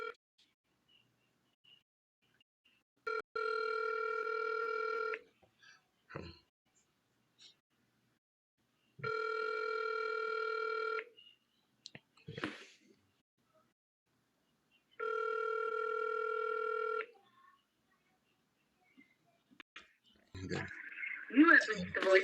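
An unanswered telephone call ringing out, with three evenly spaced long ring tones separated by silence, clear and moderately loud, followed by faint clicks and brief speech near the end.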